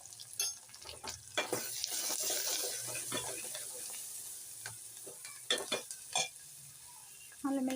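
Ginger and garlic fry softly in a pan under a quiet sizzle, with scattered louder stirring clatters of a utensil against the pan, heard up close at low volume.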